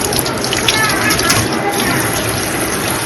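Water runs and splashes steadily and loudly close by while a small child is washed, a continuous rushing flow with no break.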